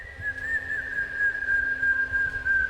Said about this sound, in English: Then the same whistle again, behind him.